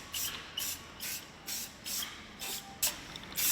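Short bursts of hissing come from an aerosol spray can of paint as it sprays in a steady rhythm, about seven quick, close pulses separated by brief gaps, with no voices.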